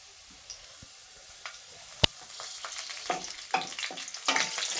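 Cut green chillies hit hot oil with garlic in a pan and crackle into a busy sizzle, with scattered pops and stirring scrapes that grow louder toward the end.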